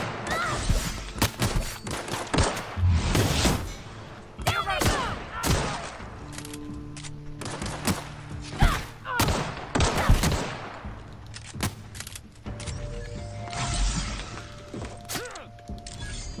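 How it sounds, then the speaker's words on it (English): Gunfire in The Outer Worlds video game: loud bursts of shots and rapid automatic fire with impacts and mechanical clanks, coming in dense clusters with short pauses in between. "Alright, who's shooting me?"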